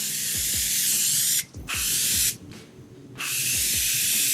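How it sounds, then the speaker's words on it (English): Morphe Continuous Setting Spray is misted in long, loud, close hissing bursts, with two short breaks between sprays and no one talking. "I'm going to be using the Morphe Continuous Setting Spray to bring the look together"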